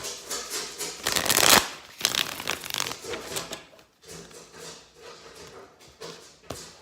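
Tarot cards being shuffled in a quick riffle burst, then softer intermittent card handling and shuffling in a quiet room.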